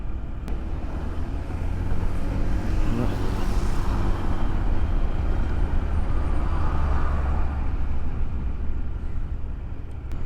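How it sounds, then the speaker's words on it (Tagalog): Big truck rumbling on the road ahead in slowed traffic, caught from a Honda ADV 160 motorcycle on a Rizal-to-Leyte ride, a steady low drone of engine and wind noise running through the whole stretch. "May malaking truck sa unahan."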